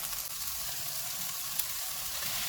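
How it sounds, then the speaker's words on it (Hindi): Kebabs frying in a pan over medium heat, a soft steady sizzle that holds evenly from start to finish, close but fairly quiet, with no talking. "दो मिनट के बाद इनमें तैयार किए हुए कबाब डालेंगे।"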